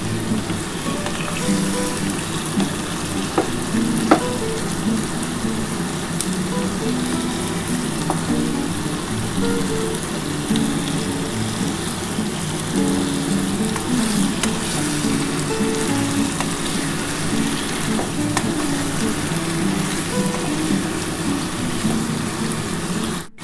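Spiced masala for a potato dum curry frying in a pan while tomato is pressed down with a spatula, a loud, steady, close sizzle running throughout with occasional faint scrapes.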